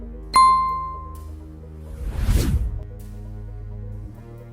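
A single bright bell chime rings out and fades, followed by a soft whooshing swell that rises and dies away.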